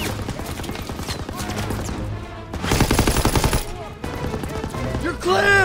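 Rapid automatic gunfire bursts crackle in a Call of Duty battle, loud and dense with short gaps, mixed with shouted voices and other combat noise.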